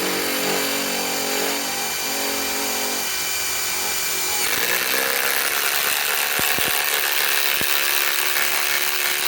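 Ryobi PSBIW25 compact impact wrench on an 8 amp 21700 battery, driving 5-inch by 3/8 lag screws into wood that is not pre-drilled. A loud, continuous whining drive shifts into harsher rapid hammering partway through, and a few sharp clicks follow.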